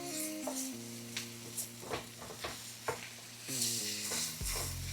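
Burger patties caramelize in a hot pan as they are tossed, a faint sizzle broken by several short scraping and clattering stirs, with low tonal hum beneath.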